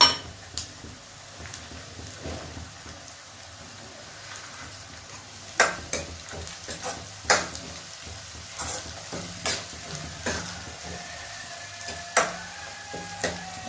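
Garlic frying in a pan with a steady low sizzle, broken by occasional sharp clinks and stirring scrapes, close and moderately loud with no talk.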